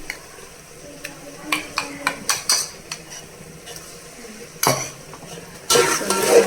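Mutton stirred in a pan with ginger garlic paste and chili powder: a metal spoon clacks and scrapes in a rapid series, with a soft sizzle that swells to a louder burst at the end.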